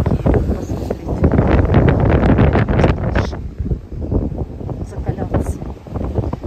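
Heavy gusty wind on the ocean coast of western Tenerife buffets the microphone in loud, uneven bursts, with a voice talking through it.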